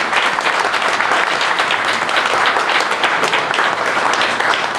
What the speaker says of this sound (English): wee round of applause for them